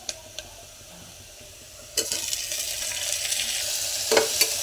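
Chopped tomatoes dropped into onions frying in hot oil for a dry cowpea curry, bursting into a loud sizzle, with a few sharp clinks of a spoon against the pan as it is stirred.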